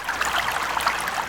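Hot water is poured in a Tamil tea-shop cartoon, giving a short, close, bubbling trickle of liquid with no talk over it.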